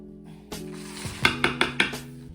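Hands work through meatloaf ingredients in a bowl, giving a few wet, squelchy slaps and knocks in a steady rhythm against a low background hum, close and fairly loud, with no talking.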